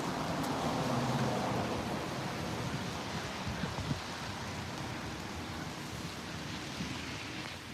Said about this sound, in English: it's starting to really rain